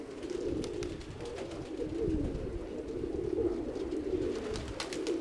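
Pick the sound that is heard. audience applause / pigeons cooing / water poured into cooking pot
pigeons cooing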